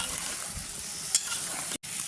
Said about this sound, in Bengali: কেটে রাখা ফুলকপি আর আলুগুলো দিয়ে দিলাম।